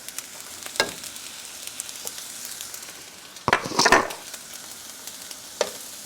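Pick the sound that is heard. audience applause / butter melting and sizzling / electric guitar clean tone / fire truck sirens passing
butter melting and sizzling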